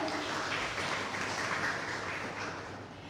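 Audience applause greets a speaker at a Gujarati literary talk, a steady wash of many hands clapping, fairly faint and distant, gently fading toward the end.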